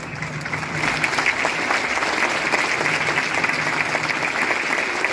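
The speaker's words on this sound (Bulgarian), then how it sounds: "Аплодисменти за Трифон и за всички велики футболисти, които не са сред нас." Crowd applause at a centenary celebration for the FC Etar football club, a dense, steady wash of clapping that swells after a brief quieter start and holds loud and sustained, with no talk over it.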